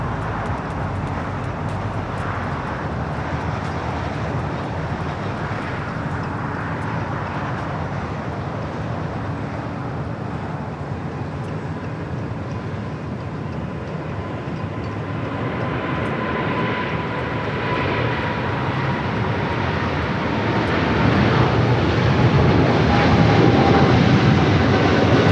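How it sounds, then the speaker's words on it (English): A British Airways Boeing 777-300ER heavy rolls for takeoff down runway 25 Right at LAX, bound for London Heathrow. A steady jet engine roar that swells louder near the end, with no talk over it. "we do have a heavy rolling down 25 right. It's the British Airways 777 at 300ER."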